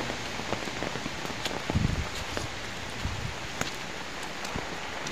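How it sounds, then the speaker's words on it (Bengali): Heavy rain pours steadily on surfaces outdoors, with a dense hiss and scattered drop impacts; a brief low rumble surges near the two-second mark, and no voices are heard. "ব্যাপক বৃষ্টি, ব্যাপক, দাঁড়ানো যাচ্ছে না"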